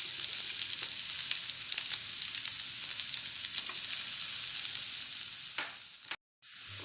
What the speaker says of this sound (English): Now we have to add onion.